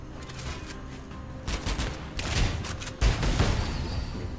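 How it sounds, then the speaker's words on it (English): A shotgun fires in a Nintendo Switch video game, with a few heavy, booming blasts in quick succession over continuous dense game noise. "the shotgun's gonna do some pretty good damage when I'm up close"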